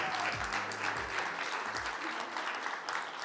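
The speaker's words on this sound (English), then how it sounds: "All right, round of applause." Audience applause at a 24-hour film race screening event, a steady dense wash of clapping filling the room with a few low voices underneath.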